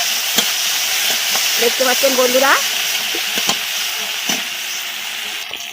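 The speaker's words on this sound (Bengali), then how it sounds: "চিংড়ি মাছটা ভাজা হচ্ছে" About a hundred grams of shrimp fry in hot oil in a pan, a constant bright sizzle with a few stirring clicks, while someone talks briefly over it.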